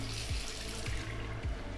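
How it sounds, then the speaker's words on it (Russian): Water runs steadily from a small faucet in an even hiss, fairly faint, with a few low knocks underneath and no talking. "Такой вот краник."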